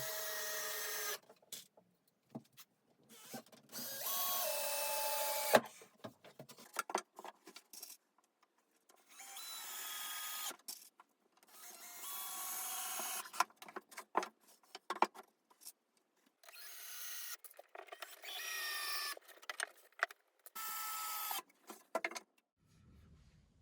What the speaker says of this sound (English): Here I'm attaching all the slats to the top rails of the bed.